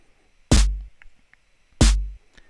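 A synthesized kick drum and snare hit together twice, once per bar, each a sharp loud burst with a deep low thump and a bright noisy tail, separated by near silence.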